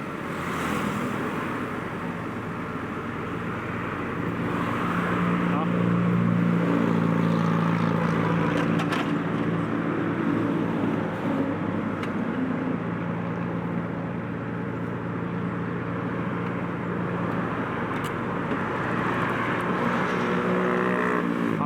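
A SANY SY35U mini excavator with a 24 HP Yanmar engine, weighing 3855 kg with a 0.12 cubic metre bucket, runs steadily at close range while digging a trench, its diesel drone continuous and loud throughout.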